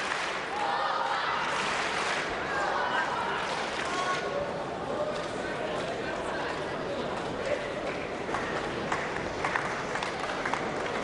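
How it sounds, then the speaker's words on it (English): A table tennis crowd at a World Cup match roars and cheers steadily throughout, a loud continuous wash of voices and clapping with a commentator talking over it. "the crowd is ever more vociferously behind him."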